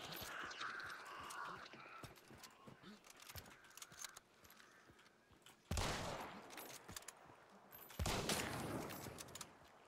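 Gunfire in an online shooter game: rapid volleys of fairly faint shots in bursts, followed by two louder noisy blasts, with players talking over headsets.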